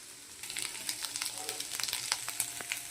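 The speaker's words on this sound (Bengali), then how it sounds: "এইভাবে ডিমটাকে ভেজে নেব।" Egg frying in a pan for a spicy semolina dish, a steady crackling sizzle with sharp spitting pops that starts quietly and grows louder after the first half second, heard close with no talking.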